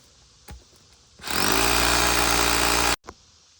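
Power drill boring holes into a concrete slab during slab lifting and leveling, a loud steady whine with harmonic tone running about two seconds after brief clicks, then stopping abruptly.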